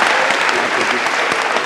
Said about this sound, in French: On a applaudi.